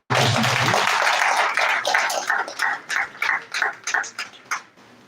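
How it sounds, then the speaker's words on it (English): An academic audience applauds the presenters after a lecture on computed tomography, a burst of dense clapping that thins into scattered individual claps and fades out over several seconds. "A round of applause for our presenters."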